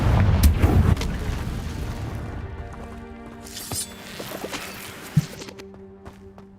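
Confringo, a blasting spell in Hogwarts Legacy, goes off as a heavy explosion with a loud booming burst at the start. The burst rolls off into a fading rumble, followed by a few scattered thuds and clicks.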